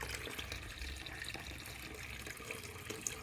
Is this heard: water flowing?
yes